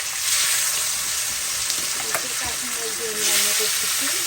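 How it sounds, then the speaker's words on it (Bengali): Small kachki fish fry in a pan with a continuous crackling sizzle that swells and eases. There are a few utensil knocks and a faint voice in the background. "মাছটা ভেজে নিচ্ছি"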